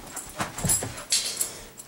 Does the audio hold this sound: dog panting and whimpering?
yes